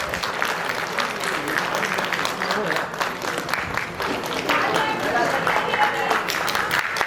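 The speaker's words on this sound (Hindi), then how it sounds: "तेजस के लिए एक बार जोरदार तालियां और" An audience at a Bikaner arts festival gives a standing ovation, dense loud applause swelling steadily throughout, with voices mixed in.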